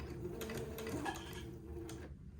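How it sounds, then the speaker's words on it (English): A sewing machine stitches a tiny seam on a garment, producing a faint, steady mechanical ticking and whirring at close range in a quiet room, with no voices. "just do a tiny little seam as I go along"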